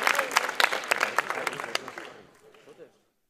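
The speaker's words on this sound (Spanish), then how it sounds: "Un fuerte aplauso." Audience applause for a team introduced at an elevator pitch event, dense clapping at moderate level that thins out and fades to silence near the end.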